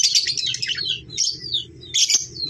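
Small birds chirp and tweet in quick bright bursts, three clusters of calls close by over a low background hum.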